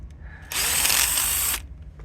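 A power drill whirs loudly for about a second during a 2015 Kia Optima rod bearing and crankshaft replacement, starting and stopping abruptly, close up with no talking.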